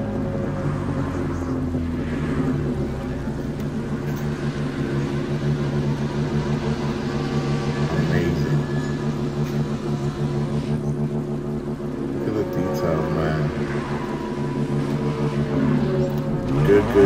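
A car engine idles in The Crew Motorfest racing game, a steady low rumble that runs loud and unbroken, with slight swells in tone partway through and near the end.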